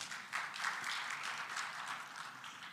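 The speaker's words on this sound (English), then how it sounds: "Let's give them another round of applause" Audience applause at a medical conference session, a moderate, even patter of clapping from a seated crowd, fairly distant and steady throughout.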